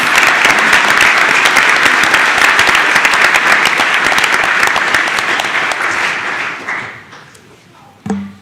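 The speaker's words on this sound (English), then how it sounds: "let's give Alex Chu a round of applause." A school board meeting audience applauds a graduating high school student, a dense, loud wash of clapping that holds steady for about six seconds, then thins and fades out.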